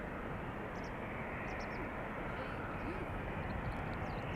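Loud, steady roar of a nine-year-old airliner's engines climbing out after takeoff from Amsterdam Schiphol, filling the cabin as a continuous broadband rumble with no break across the whole stretch.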